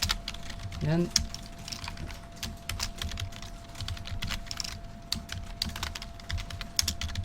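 Computer keyboard keys clatter steadily while Java code is typed, with rapid close taps and a few heavier keystrokes such as the space bar and Enter, continuing without pause for several seconds.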